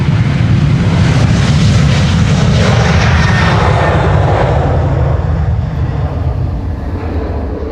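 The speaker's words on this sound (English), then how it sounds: "El Al, second flight of El Al that we see today, flight 338. This is a 737-900 on its way to Tel Aviv." El Al Boeing 737-900 jet departing Schiphol's Polderbaan runway, a loud, sustained low engine roar with broadband rumble that holds steady and eases only slightly toward the end, with no voices.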